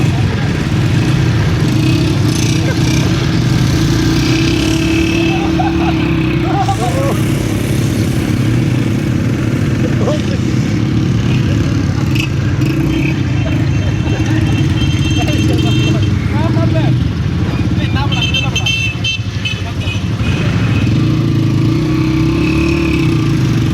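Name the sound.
Honda CG 125 motorcycle engine running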